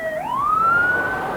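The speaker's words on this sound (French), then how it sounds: "J'entends une sirène de police." A police car siren wails nearby in a 1990 French TV drama, one rising electronic tone that sweeps upward and holds steady, loud and alone without speech.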